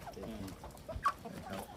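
Chickens on a rural farm in Hezhou, Guangxi, with a brief cluck rising faintly over low background murmur and distant talk.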